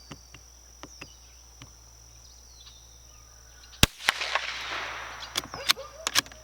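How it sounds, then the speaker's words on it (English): A Winchester Wildcat Xpert rifle fired at a splatter target outdoors, sharp isolated cracks in a quiet setting among faint insect chirps, with several quick shots clustered near the end and a brief noisy rustle after the loudest report. "we're going to go ahead and take 5 shots at that dirty bird target there, splatter target"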